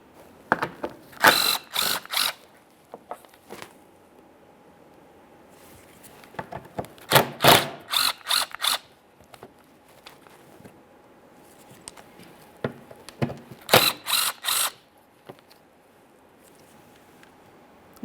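A ratchet loosens 10mm mounting bolts on a Ford Fusion panel, sounding in three separate bursts of quick, close clicking with quiet pauses between them.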